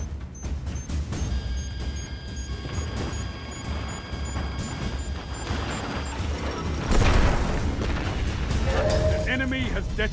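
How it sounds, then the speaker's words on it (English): A detonation charge goes off in a Destiny 2 Crucible match, a loud burst arriving late amid dense game clamor, mechanical clanks and background sounds, followed by rumbling debris. "Detonated the charge."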